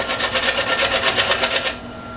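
A wood lathe spins an offset pen blank with a slight wobble, giving a steady whirring, buzzing hum with rhythmic pulsing close by, then cutting off abruptly as the machine shuts down near the end.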